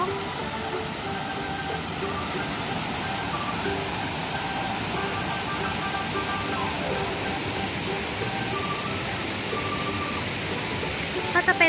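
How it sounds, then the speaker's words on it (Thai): A waterfall at Khao Laem–style tiered falls in Kanchanaburi, Thailand, water flowing down toward the first tier, heard as a steady broadband rush throughout, with a voice talking over it briefly. "ก็จะเป็นน้ำไหลไปตาม"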